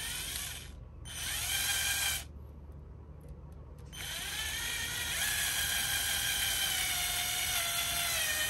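A small drill bores a vent hole into a Traxxas Maxx RC tire, a close whining, ratcheting buzz that pauses briefly twice and then runs steadily to the end.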